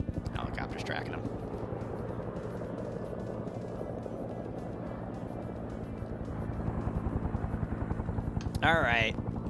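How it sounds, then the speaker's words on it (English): A helicopter flying in a Vietnam War military video game, heard as a steady low rotor drone throughout, with a faint voice and a brief sweeping game sound near the end. "Helicopter's tracking him."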